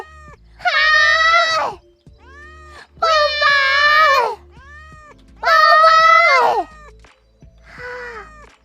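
A cat meows in a video game, four drawn-out, wailing meows in a steady sequence with short pauses between, close and loud, the last one shorter and softer.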